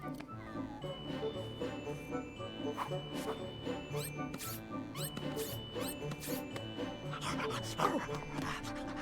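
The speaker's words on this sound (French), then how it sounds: "Bon chien, comment on va t'appeler?" A cartoon dog pants in an animated French children's series about triplets, a soft, quick breathy rhythm set against busy background music and effects throughout.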